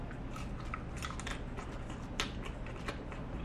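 Close crunchy biting and chewing of cooked vegetables such as carrot, edamame, mushroom and corn, a steady run of crisp crunches with no talking.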